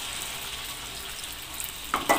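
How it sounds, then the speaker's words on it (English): Fish fries in a shallow layer of oil in a pan, giving a soft, steady sizzling hiss, closed by a couple of louder crackles and spits at the end. "now we put some oil in a pan, and we're gonna fry the fish"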